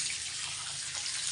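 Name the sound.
water being poured out of pig's drinking container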